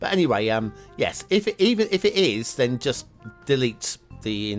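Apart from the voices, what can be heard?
No everyday noises stand out.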